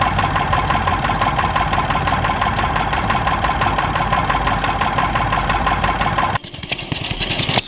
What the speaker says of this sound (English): Small hit and miss engine powering a water pump.